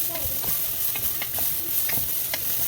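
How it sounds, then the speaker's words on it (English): Brown rice toasting in a dinner pan, stirred throughout, giving a steady soft sizzle with dry scraping and scattered light clicks of grains moving, close and fairly even for a few seconds, with no talking. "Toast the rice for a second."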